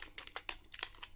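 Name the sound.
typing code on a computer keyboard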